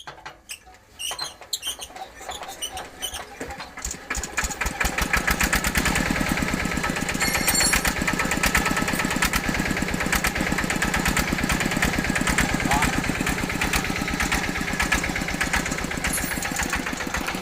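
A small walking tractor engine is pulled a few times, catches, then settles into a loud, steady, rapid idle chugging for the rest of the clip.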